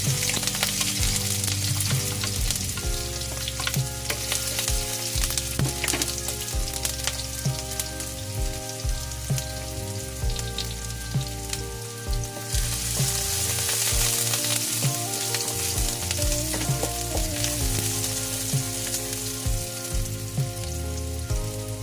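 Onions sizzle in hot cooking oil for a vegetable stir-fry, a loud, continuous crackling hiss close by, with background music playing underneath throughout.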